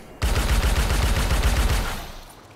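Special-ability weapon fire from the video game Anthem: a dense, rapid burst of loud shots hammering for nearly two seconds, then quickly fading out.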